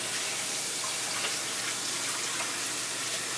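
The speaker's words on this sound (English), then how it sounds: "I've rinsed my hands off" Hands are rinsed under steady running water while making meatballs in a kitchen, a constant hissing splash that holds at an even level from start to finish with no talking.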